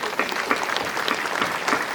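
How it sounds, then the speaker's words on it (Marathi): A congregation at a Marian novena prayer service claps together in a steady, rhythmic beat, many hands sounding close and even throughout. "आपण टाळ्या वाजूया."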